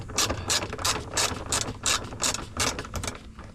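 A ratchet with a 10mm socket turns grille screen nuts on a 2019-2025 Toyota RAV4, giving about ten crisp, evenly spaced clicking bursts, close and loud, with no talking.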